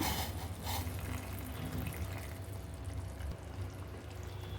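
A continuous wash of hot water pouring and splashing into a potato tikka masala gravy, moderately quiet, fairly close, steady throughout with no voices.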